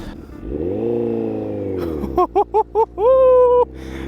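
A custom 2008 Honda CBR1000RR streetfighter motorcycle roars up close in a rising rev, then fires four quick throttle blips and ends with one longer, held rev before cutting off.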